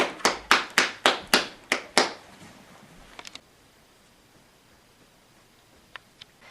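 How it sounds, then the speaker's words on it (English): Eight slow, sharp hand claps from a single person in a steady rhythm, then a few faint taps and near silence. "Let's give these ladies a round of applause."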